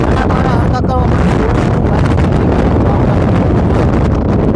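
Strong wind buffets the microphone in an open peanut field during sowing, a loud, continuous roaring rush that swamps everything, with talk faintly mixed in.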